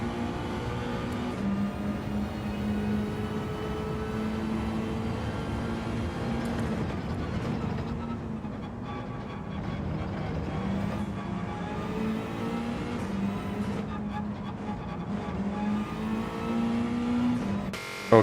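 Race car engine in the Gran Turismo 7 video game, a steady loud drone that holds for the whole stretch with small shifts in pitch, and faint tire noise as the car slides.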